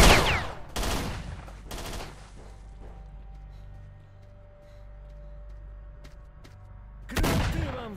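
Bursts of gunfire in STALKER: Shadow of Chernobyl, a few sharp loud volleys at the start and again near the end, separated by a quieter stretch of low ambient rumble.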